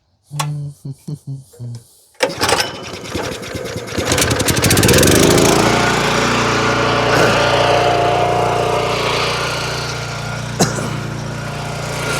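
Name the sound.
hydraulic log splitter engine running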